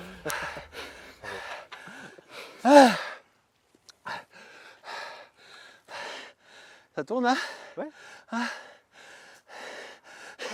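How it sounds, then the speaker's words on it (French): Heavy, breathy gasps and sighs from someone out of breath after riding a Specter 1 bike, close to the mic and mixed in with short bursts of nearby conversation. "t'es essoufflé."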